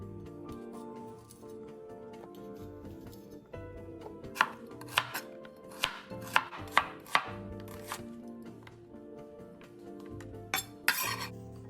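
An onion being cut into thin shreds with a knife on a cutting board: a run of crisp, evenly spaced chopping taps, fairly close, over quiet background music, with no talking.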